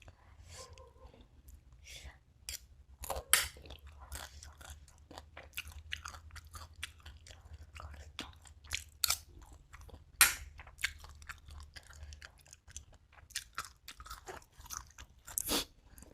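Crunchy Thai fried rice salad with fermented pork being eaten up close: a steady run of soft crunching and chewing clicks with a few sharper bites, recorded quietly with low background hum and occasional whispery mouth noises.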